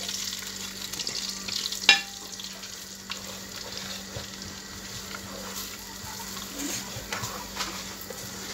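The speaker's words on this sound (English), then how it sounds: "let's add our egusi because the oil is already hot." Egusi (ground melon seeds) frying and being stirred in hot oil, a steady soft sizzle with scraping stir strokes and one sharper clatter early on, recorded close in a home kitchen.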